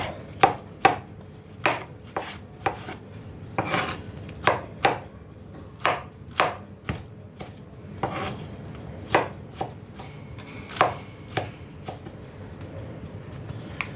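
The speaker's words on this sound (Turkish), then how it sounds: "Şu an tam 5 domates doğradım." A knife chops through tomatoes on a board in steady, close taps, roughly two strokes a second, with no talking.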